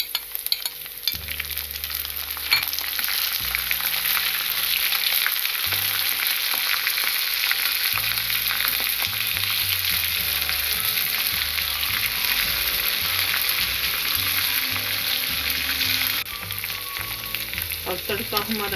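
Steady, loud sizzling of chillies frying in hot oil with browned garlic and onion for a dal tadka, with faint stirring scrapes throughout and no voices.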